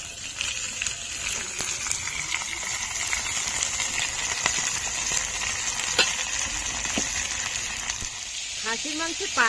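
Mutton pieces sizzle in a pan with onions fried red and a little sugar for a thin mutton curry with potatoes, a steady close hiss and crackle with scattered stirring scrapes throughout.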